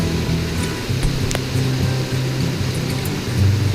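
A constant broadband rush of falling water at a waterfall in Shenandoah National Park fills the air, steady and close, with a low rumble underneath and no voices.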